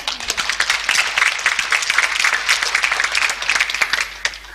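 Audience at a church seminar applauding, a dense burst of many clapping hands, loud and close, holding steady for several seconds before thinning out.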